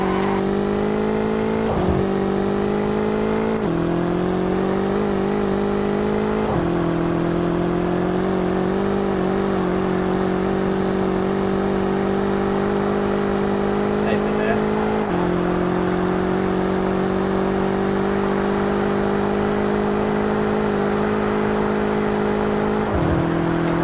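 A rear-wheel-drive car accelerates hard during a top speed test, its engine drone climbing steadily in pitch with several gear changes breaking the rising whine. The sound is loud and close throughout.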